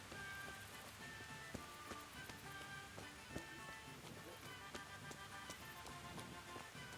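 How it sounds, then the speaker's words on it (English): Steady rain falls in the medieval role-playing game Kingdom Come: Deliverance, a dense even patter with scattered sharper drops, heard alongside lively game music. "Stuck in the rain."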